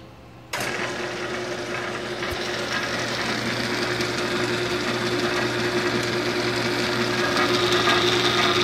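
Converted bandsaw motor starts abruptly and runs through its belts and pulleys with a steady whirring hum and faint mechanical rattle, holding constant and slightly rising in level throughout.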